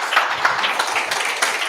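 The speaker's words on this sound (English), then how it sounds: "Big round of applause for Michal" An audience at a business pitch event breaks into dense, sustained applause, a continuous wash of many hands clapping at once.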